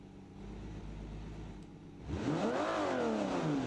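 A car engine in a car-building racing video game hums steadily, then revs up sharply around the two-second mark, climbing and falling in pitch through quick gear-like sweeps, loud and close with no talking.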